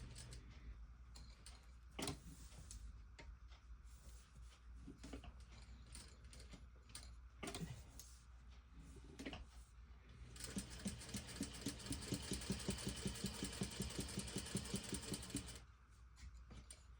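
A sewing machine stitches a crossbody bag, starting with scattered mechanical clicks and thumps and then a steady, close whirring run of about five seconds before stopping.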